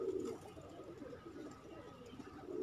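A blue-eyed pigeon of the kind locally called billa coos in a home pigeon loft, two soft, low, throaty coos at the start and end with a quieter murmur between, close and faint.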